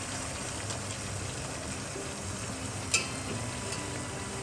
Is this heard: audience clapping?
no